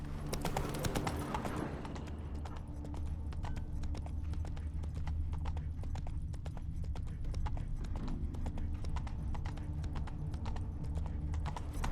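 Roach the horse from The Witcher 3 galloping, hooves pounding in a steady, dense rhythm throughout over a continuous low game ambience, close and loud, with a brief whinny-like burst near the start.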